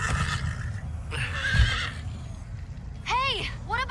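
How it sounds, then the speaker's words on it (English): Horse in the video game Minecraft Story Mode giving a couple of shrill whinnies near the end, after a stretch of game voices talking over hoof and background noise. "Slow down, horse!"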